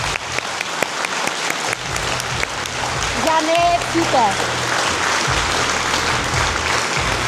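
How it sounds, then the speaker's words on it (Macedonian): A crowd applauds the doctors at a fashion show, sustained clapping rising to a steady roar, with a voice speaking over it. "Аплауз за докторите!"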